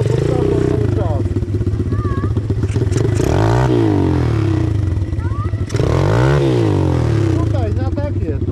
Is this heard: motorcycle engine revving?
yes